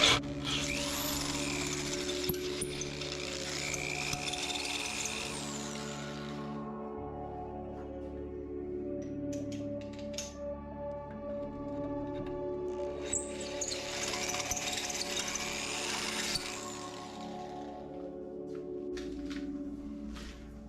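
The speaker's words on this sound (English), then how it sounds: "I'm going to run through just a straight drill bit just to help straighten everything out" A 1/2 inch straight drill bit bores through a racing minibike frame in two long whirring runs separated by a pause, with a motor hum underneath throughout and no speech.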